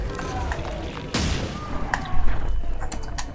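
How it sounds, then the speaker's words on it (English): A grenade blast in the horror video game The Sinking City, a sudden loud boom that decays quickly, with scattered gunshots and game noise around it and a voice talking. "A grenade."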